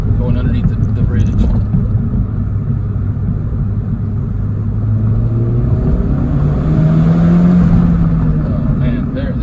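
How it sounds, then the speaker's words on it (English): A 2012 MINI Cooper Coupe S exhaust droning while driving under a bridge, a loud steady low rumble with a rising engine tone as it pulls, heard from inside the car with someone talking over it. "Let's see if we can hear the exhaust through the bridge, going underneath the bridge."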